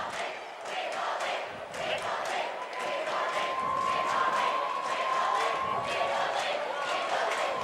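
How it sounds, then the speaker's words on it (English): East Hampton high school students chant in unison at a boys' basketball game, a loud rhythmic crowd cheer echoing through a gym, steady and sustained with a faint whistle tone partway through. "The student body at East Hampton cheering, "We will win, we will win.""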